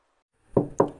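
A wolf knocks on the door of a straw house in a telling of the three little pigs: two firm, close knocks with a short gap between them, alone after a brief silence.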